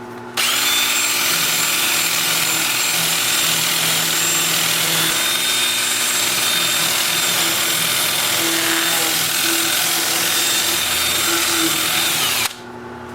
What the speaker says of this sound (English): I'll switch to my 2-inch disc at 80 grit and sand all the turn parts on the inside